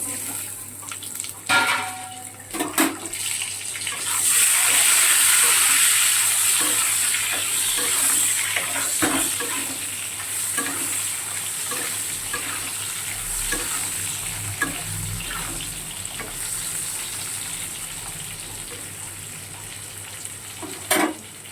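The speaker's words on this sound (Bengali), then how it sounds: "সামান্য একটু কালো জিরে ফোড়ন দেব। টমেটো আর আলু কাটাটা দিয়ে দিচ্ছি।" Chopped tomato and potato frying in a pan with nigella seeds after fish has been fried in the same oil: a loud, steady sizzle with stirring and scraping throughout, heard alone with no speech.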